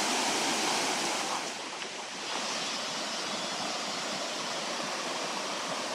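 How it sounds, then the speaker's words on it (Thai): A steady, broad rush of water at the tiered Erawan Falls, its cascades pouring continuously as a dense hiss heard from nearby, with no talking and only a brief dip in level midway. "น้ำตกเป็นชั้นๆเลยดูดี"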